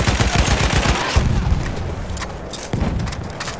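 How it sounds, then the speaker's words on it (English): Enemy machine gun fire in the World War I shooter Battlefield 1, rapid close bursts of shots at the start that thin into scattered, fainter gunfire and thuds. "Enemy machine gun!"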